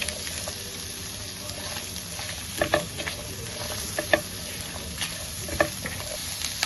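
A couple of peppercorns sautéing in a pan for shahi paneer give a steady soft sizzle with occasional small pops and stirring clicks, close and alone.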